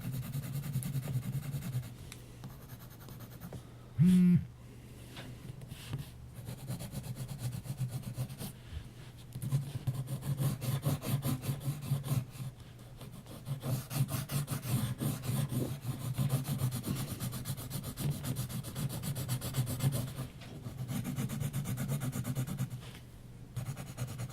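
Steady scratchy rubbing of a cheap HB pencil on paper, close and fairly quiet, with short repeated strokes and a brief knock partway through.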